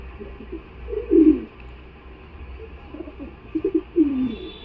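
A female Suddi Chapka pigeon gives soft, low coos in a few short bursts, close by, with faint background hum and no voices.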